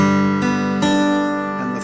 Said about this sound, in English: Here's the open G.